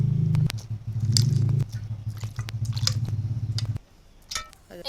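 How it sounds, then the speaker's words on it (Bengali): Raw mangoes being washed by hand in water, with steady close sloshing and squishing that runs in rhythmic bursts, then drops to scattered light drips and splashes near the end. "আমি আবারও জল দিয়ে আমগুলো ধুয়ে নেব।"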